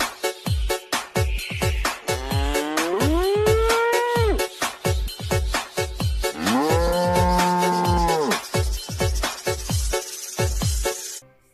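Two long, drawn-out cow moos stand out over a steady, rapid rhythmic beat, loud and close.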